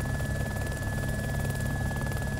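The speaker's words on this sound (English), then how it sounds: "there's a heli right fucking there" Helicopter in the video game DayZ Overpoch, a loud continuous rotor thrum and engine whine filling the scene, steady and close throughout.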